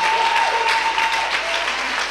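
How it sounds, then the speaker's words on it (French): A church congregation claps steadily and loudly during a worship service, a dense, continuous wash of applause with a sustained tone or voice running beneath it. "Give the Lord a big clap of it."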